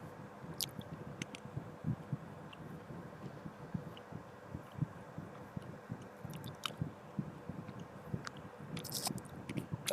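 Someone chewing a nut close to the microphone, with quiet, moist crunches and squishy mouth sounds repeating irregularly for several seconds, with no talking.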